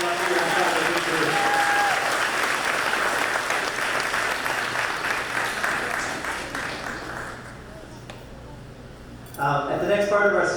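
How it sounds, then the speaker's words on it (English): A school moving-on ceremony crowd claps in a sustained round of applause, loud and dense at first, then thinning and fading out before a voice comes in at the end. "How about one more round of applause for John Carlos and Alexis?"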